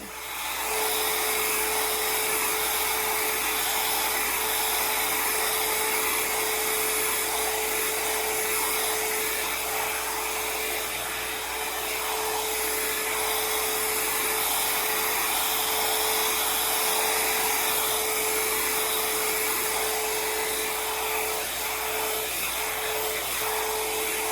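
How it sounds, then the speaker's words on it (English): Dryer brush blow-drying natural hair, a steady high-pitched motor whine with a constant airflow hiss, close and continuous throughout without talk. "You may see a little bit of that, how that dryer brush works."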